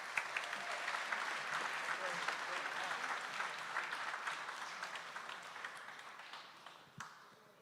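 Audience applause at a business hall of fame ceremony honoring CEOs, a dense steady wash of many hands clapping that slowly thins and fades out with a few last claps near the end.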